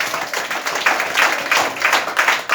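A church congregation claps together in a steady, fairly dense rhythm, the clapping fairly loud and continuous with a faint voice underneath.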